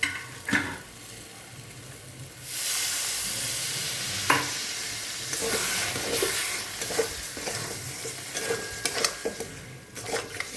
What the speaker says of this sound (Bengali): এখন ওই ভেজে রাখা আলুগুলো দিয়ে আমি আরেকটু ভাজতে হবে